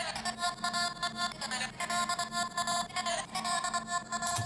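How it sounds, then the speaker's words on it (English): An Indian tribal-style vocal sample chanting within a psytrance drop, bright layered tones chopped into a fast rhythmic pattern over a dense electronic backing, heard at moderate level. "In the mid of the Psytrance drop there is an Indian vocal singing"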